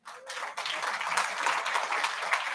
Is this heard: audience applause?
yes